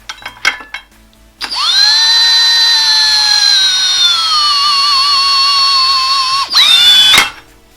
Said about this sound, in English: Now using a spanner or ratchet, or in my case an impact gun, we're going to wind this thread in